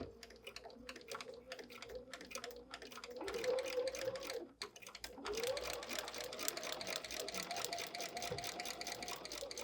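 A sewing machine runs stitches through fabric on a paper foundation for foundation paper piecing, a close, rapid and even chatter of the needle with a brief pause midway before resuming.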